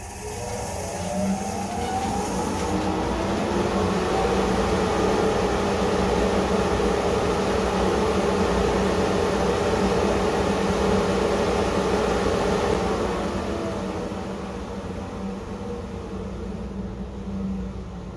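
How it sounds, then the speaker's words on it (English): A shop blower runs steadily for about thirteen seconds, a loud, continuous whooshing hum, then gradually winds down and fades toward the end. "Turned on, blower worked good."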